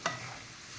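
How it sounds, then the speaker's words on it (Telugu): Water poured into a pan of frying chicken masala sets off a sharp burst of sizzling that quickly settles into a steady, softer hiss and bubbling close by, with no one speaking. "1/4 గ్లాస్ నీళ్ళు వేసుకున్నాను"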